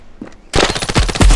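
Rapid bursts of P90 submachine gun fire in the mobile shooter Standoff 2, loud automatic shots with sharp repeated transients after a brief quiet lead-in, no talk over them.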